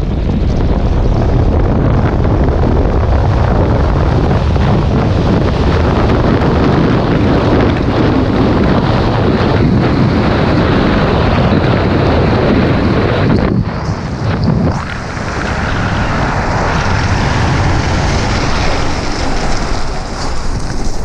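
Wind roars steadily and loudly past a speed skier's helmet microphone during a descent at Vars, building to 167 kph, a dense buffeting rush that barely dips near the end.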